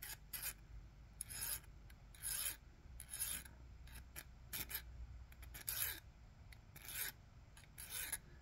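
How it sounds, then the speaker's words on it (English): A hand file rasps across the clamping teeth of a multi-tool in short, regular strokes, about a dozen close, crisp scraping passes with brief pauses between them and no talking. "just putting it on the tooth, turning the file slightly up"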